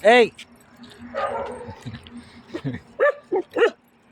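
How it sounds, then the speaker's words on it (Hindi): Dogs in a residential colony bark and yip at a watchman blowing a whistle on his rounds, with several loud, close barks in short bursts. People talk throughout. "यहाँ पे चौकीदार आया हुआ है सीटी बजाते हुए कॉलोनी में, उस पर भौंक रहे हैं वो।"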